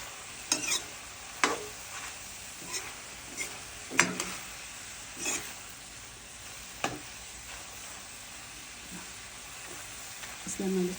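Goat stomach and tomato sizzle steadily in a pan while a utensil scrapes and stirs in irregular clacking strokes, close and clear, with a little speech in between.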